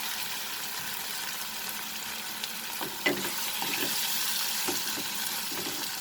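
Tomatoes and masala frying in a pan over a medium flame for soya keema, a steady soft sizzle with a few brief stirring clinks.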